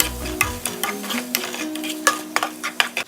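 Chicken gizzards and heart sear in a hot pan with crackling sizzle and sharp spatula clicks and scrapes at irregular intervals, close and fairly loud, over a faint steady tonal hum.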